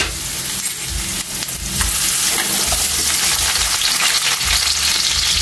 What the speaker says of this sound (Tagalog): umpisa na natin Kaylee, lagay natin yung luya